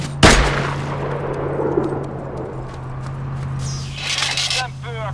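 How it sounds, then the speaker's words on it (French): A building explodes in a video game: a sharp, loud blast at the start, then a rumbling, crackling tail and scattered debris, over a steady hum and some faint later noises. "Ah bah tiens, un bâtiment. Je vais l'exploser"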